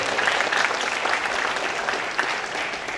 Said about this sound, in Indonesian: Tepuk tangan dulu dong buat GDG Bogor.